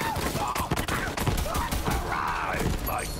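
Gunfire in the Borderlands 3 video game, with rapid shots cracking in bursts over busy game noise and someone talking throughout.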